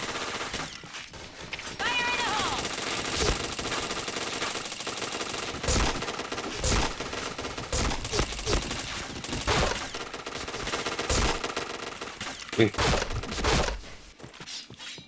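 Rapid bursts of gunfire crackle from a shooter video game, repeated sharp volleys of close, loud shots in quick succession with short gaps between them.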